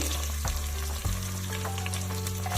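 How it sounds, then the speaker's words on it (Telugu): Onions, carrots, beans and potatoes frying on high heat in spiced oil for veg pulao, a loud continuous sizzle with a stir or two, no voices over it. "ఆలు ఇవి వేసుకుని ఒక 2 నిమిషాలు హైలో పెట్టుకుని ఫ్రై చేసుకున్నామండి"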